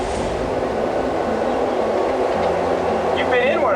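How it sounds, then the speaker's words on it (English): A diesel train engine on a Chattanooga, Tennessee railroad rumbles loudly and steadily up close, a deep continuous drone with a brief high squeal near the end. "There's the diesel engine right there."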